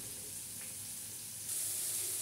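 Mushrooms frying in a pan while being stirred, a soft steady sizzle that grows louder and brighter partway through, close and faint with no talk.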